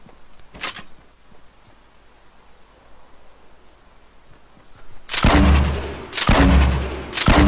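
Grenade blasts in Fortnite Battle Royale: after a quiet stretch with one short burst early on, three loud, booming explosions land in close succession near the end, each with a heavy low rumble.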